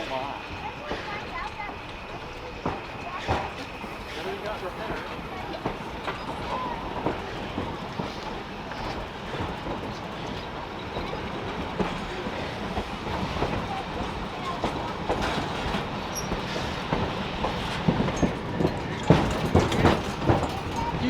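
Historic Nevada Northern Railway train running, a steady rumbling roll with repeated clickety-clack of wheels over rail joints, heard from aboard and growing slightly louder toward the end, with talking over it.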